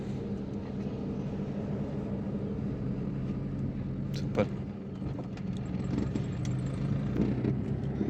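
A car engine hums steadily while a learner driver shifts into second gear during a driving lesson, a continuous low drone with a brief clunk midway and rising revs toward the end.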